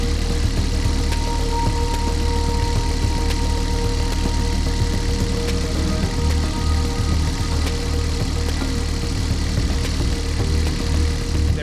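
A sailboat's inboard engine runs under load at the dock with the throttle slowly raised, producing a steady, loud, continuous diesel-like drone and vibration with no pauses or talk.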